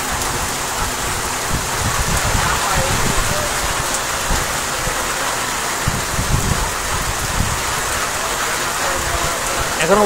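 Steady, heavy rain pours down near a closed hotel and shuttered shops, a dense, even hiss of drops hitting surfaces nearby that holds without pause.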